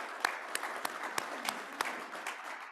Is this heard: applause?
yes